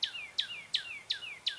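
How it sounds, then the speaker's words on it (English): A cardinal repeats a sharp, descending whistled call about five times at steady intervals, each note bright and downslurred, moderately close over a quiet background. "cardinal"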